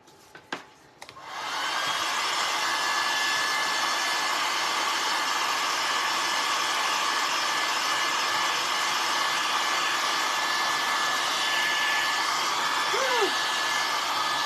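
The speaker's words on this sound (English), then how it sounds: "let's give this a quick dry" After a brief clatter, a hair dryer starts up to dry craft paint on a rustic farmhouse snowman and runs as a loud, steady, close whoosh for the rest of the clip.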